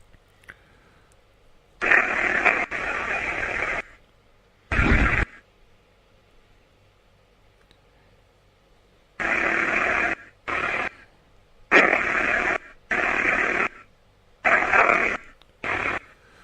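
Bursts of hissing white noise from a DR60 device, switching on and off in irregular blocks of one to two seconds with quiet gaps between, fairly close and alone without talk.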